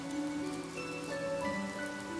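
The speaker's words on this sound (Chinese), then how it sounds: "下雨了。" Rain weather effect in a video game, a steady, even patter of falling rain that continues throughout over tonal background music, with no voices.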